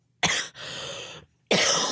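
Three loud, close coughs in quick succession, harsh and breathy, separated by short silences with no talking.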